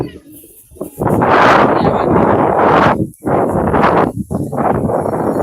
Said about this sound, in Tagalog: Mahangin sa labas guys, oh.